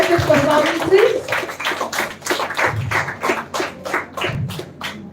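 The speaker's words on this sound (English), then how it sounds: "Can we give a big round of applause for the school, please?" Scattered hand claps from a school festival audience patter at a moderate volume under a speaking voice, picking up into a steadier round of applause.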